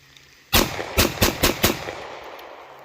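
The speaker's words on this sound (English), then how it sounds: "This is my Glock 43X Slim." Five sharp 9mm pistol shots from a Glock 43X Slim fired outdoors in a quick, slightly uneven sequence, each crack followed by a short echoing tail, with no voices.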